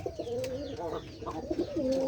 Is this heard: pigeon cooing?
yes